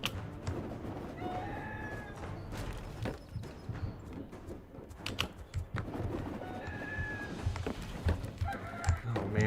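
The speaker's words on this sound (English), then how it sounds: "Rooster is going berserk." A rooster clucks and calls in bursts over busy background clatter and thumps, sounding fairly close with rising squawky notes at a few points.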